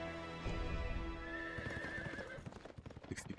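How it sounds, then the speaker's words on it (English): A horse whinnies in the Ninja Gaiden 2 video game, a long rising neigh over a busy game soundtrack with clopping hooves and clattering effects. "How did the horse get in here?"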